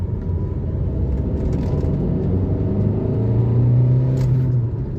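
Tata Altroz 1.5 diesel engine accelerating past about 2500–3000 RPM, a steady low rumble that swells and climbs in pitch toward the end, heard from inside the cabin with no talk.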